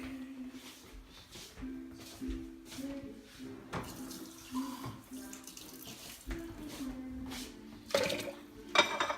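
Water run from a tap to add to a margarita being mixed, a faint gurgling stream with intermittent splashes and a few clinks, quiet and close.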